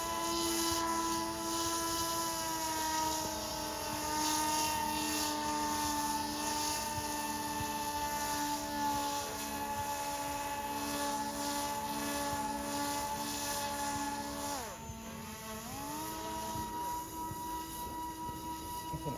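Lift and thrust motors of an RC hovercraft built from drone parts, a steady high-pitched electric whine with a brief dip in pitch near the end, running continuously at moderate distance.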